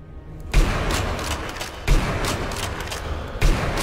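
Enemy gunfire in the shooter Sniper Elite V2 lands as three heavy, booming shots roughly every one and a half seconds over a dense, rumbling background.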